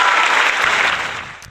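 Brief applause from a studio audience welcoming a football consultant guest, loud at first then tapering off over about a second and a half.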